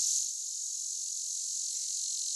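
A cicada sings in a continuous, high, buzzing drone that holds steady and loud throughout, with no voices over it.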